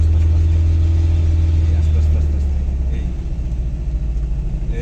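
Manual car engine pulling in first gear with gentle throttle, a loud low rumble that steadies and eases slightly as it settles into a smooth run, heard from inside the cabin.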